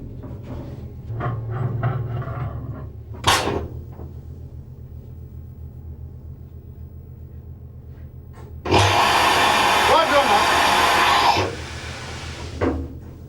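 Compressed air rushes into the outer lock of a Hyperlite portable hyperbaric chamber, a loud steady hiss that starts abruptly after quieter knocks and clunks, holds for a few seconds, then tapers off.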